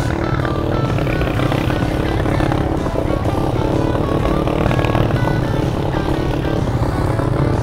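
Rusi KRY 150 motorcycle pushing through deep floodwater in a flooded barangay, a loud steady engine drone mixed with churning water, continuous and close throughout.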